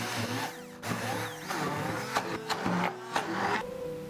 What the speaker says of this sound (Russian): И все пробиваем погружным блендером.